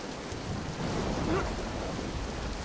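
Thunderstorm in the game Dead Island Riptide: a steady wash of rain with a low, rolling rumble of thunder swelling in the middle, moderately loud and without talk.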